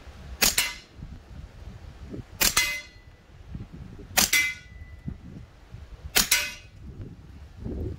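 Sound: full-auto gunfire until the magazine is empty

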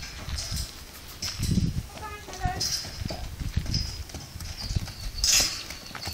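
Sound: partbred Arabian horse hooves clip-clopping

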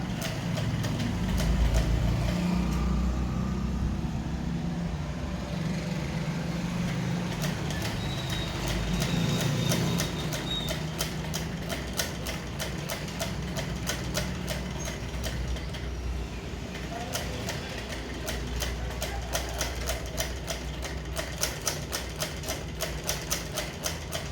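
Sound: sewing machine stitching a shaped facing on a maxi neckline

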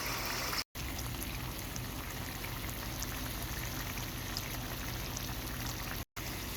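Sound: water poured into frying beef for beef karahi

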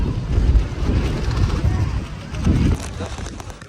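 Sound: strong wind at Saputara hill viewpoint

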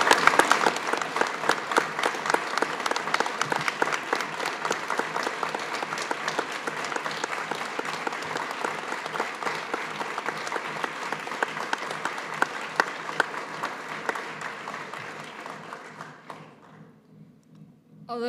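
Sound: audience applause at graduation ceremony

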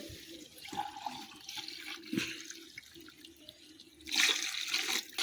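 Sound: pouring coconut milk and water into pot

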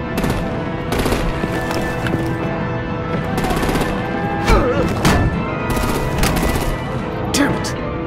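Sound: artillery and gunfire in Batman Telltale video game

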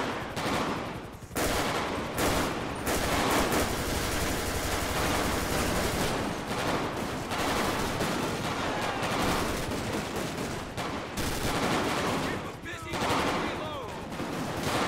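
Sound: gunfire in video game GTA 5

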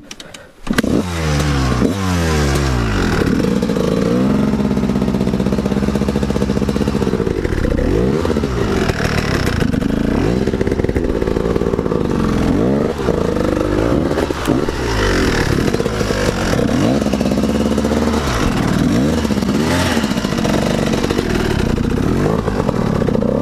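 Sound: motorbike being started and revved

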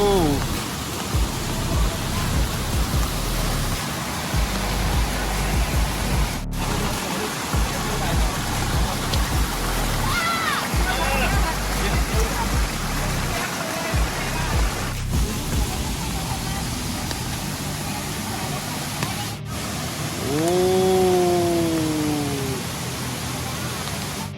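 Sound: waterfall

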